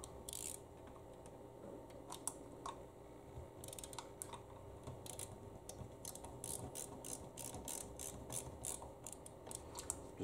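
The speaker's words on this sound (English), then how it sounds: "I'm going to go ahead and start those screws and see what it feels like." Screws being started by hand into the mount of an Electrohome G07-CBO monitor inside a Ms. Pac-Man arcade cabinet, heard as a steady run of small ratcheting, clicking turns over a faint background hum, close and fairly quiet throughout.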